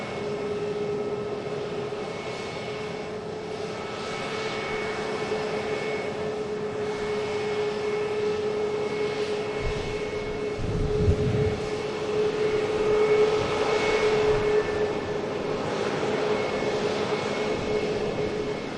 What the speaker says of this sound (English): See the TUI about to touch down.